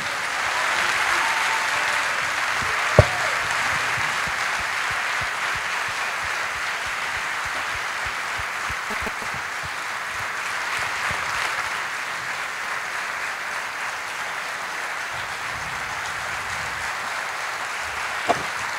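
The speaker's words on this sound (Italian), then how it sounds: "anzi vi chiedo un ulteriore applauso per loro" Sustained audience applause fills a theatre, a dense steady wash of many hands clapping that holds evenly throughout with only brief faint voices beneath.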